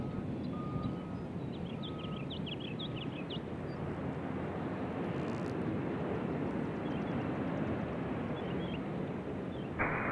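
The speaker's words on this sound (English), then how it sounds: "I want to hear the planes." Airplanes at Nashville International Airport give a steady, broad engine roar throughout, with faint chirping birds and a brief high beep near the end.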